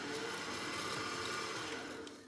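A stand mixer with the paddle attachment turns wet doughnut dough, its motor giving a steady close whir that fades slightly at the end.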